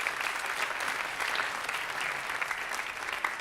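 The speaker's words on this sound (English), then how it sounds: "let's just give a great big clap for Paul." A congregation at a memorial service for Paul Cain claps steadily, a dense, even wash of applause from a crowd heard at moderate distance without speech.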